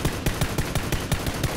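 Rapid automatic gunfire from the video game PUBG Battlegrounds, about ten evenly spaced shots in under two seconds, steady and fairly loud.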